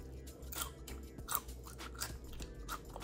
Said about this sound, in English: Crunch a little bit, but you hear that crunch?